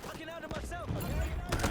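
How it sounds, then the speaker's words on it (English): AK rifle fire in the Delta Force shooter game, a few quick bursts of shots mixed with game effects, with someone talking over them. "I don't love the feel of this AK. It's a little bit slower firing."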